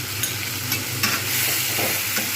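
Flat beans, potatoes and rohu fish being stirred and sautéed with chilli, turmeric and ginger-garlic paste and a splash of water in a Bengali curry, giving a steady close sizzle broken by a few soft stirring scrapes.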